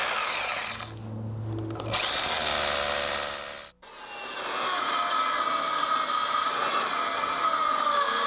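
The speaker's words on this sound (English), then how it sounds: "This is a Bosch Bulldog hammer." A Bosch Bulldog rotary hammer drills loudly and continuously, its harsh hammering whine briefly cutting out for a moment before resuming at full strength, with no talking over it.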